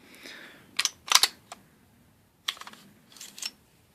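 Metal clicks and sliding scrapes as the slide of a nickel-finish Sig Sauer P220 .45 ACP pistol comes off the frame rails, a few sharp nearby clacks in two clusters with quiet gaps.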